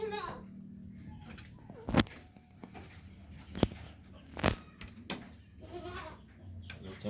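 A young goat sick with flu and cough gives a few hoarse, faint bleats between loud sharp knocks and thumps close by, while a person talks intermittently over low background hum.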